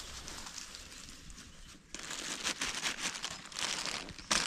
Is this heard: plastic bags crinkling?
yes